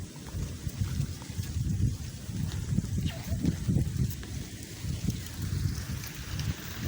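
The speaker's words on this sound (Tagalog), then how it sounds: "medyo malakas yung hangin mga idol oh" Strong wind buffets the microphone in low rumbling gusts, with faint water and boat-like noise underneath and no clear talk.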